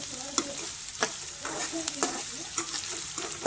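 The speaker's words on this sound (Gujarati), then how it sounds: "ડુંગળી નાખી દીધી છે. હવે ડુંગળી પાકે ત્યાં સુધી હલાવવાનું થાય છે." Chopped onions frying in a pan for an eggplant oro dish, a soft continuous sizzle broken by repeated scraping strokes of a spoon stirring at a steady rhythm, close and fairly quiet.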